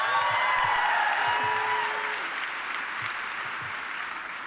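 A large crowd at a Chicago talk event claps continuously, the dense applause loud at first and then slowly thinning and fading.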